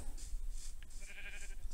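Sheep bleating in the Minecraft video game, a few soft, repeated bleats at low volume over quiet game ambience.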